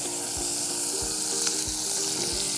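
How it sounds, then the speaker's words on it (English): Bacon sizzling and frying in a Dutch oven over a campfire, a steady close crackle with several soft stirring thumps spaced through it. "Stir that bacon around a little bit, flip it over."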